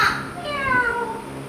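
A person gives a drawn-out meow in imitation of a cat during a Christmas party game, a single wavering call that rises and falls.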